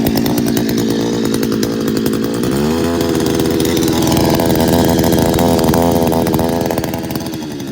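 A cheap 62cc two-stroke outboard motor running at medium throttle, a loud, buzzing, raspy drone close by with a slight pitch rise partway through, steady throughout without speech.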